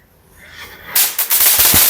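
Several sharp firecracker bursts go off close by in quick, irregular succession after a quiet outdoor lead-in in Jaffna, each crack loud and broadband.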